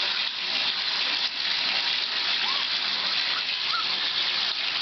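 Water rushes steadily from a tap while a chocolate Havanese puppy gets its first bath, a constant close gushing stream with no break.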